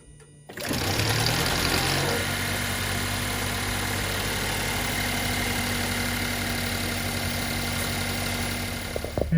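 A 2.5-litre four-cylinder Lexus GS 300h engine idles steadily after new spark plugs, a smooth, even mid-pitched hum with a faint whine, starting abruptly and running alone for about nine seconds.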